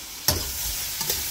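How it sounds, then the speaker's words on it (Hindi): Soya chunks frying in hot oil in a pan, with a soft steady sizzle and a couple of sharp scraping stirs. "इसको तेल में फ्राई कर लेता हूँ आज"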